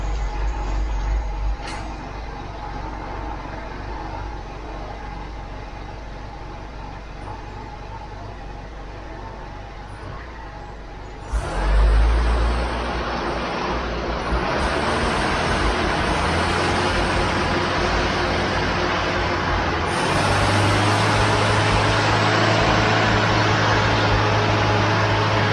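A Ford Pinto engine fitted in a Mk3 Cortina runs steadily at raised revs, a loud continuous drone that climbs in pitch and intensity partway through, with no talking.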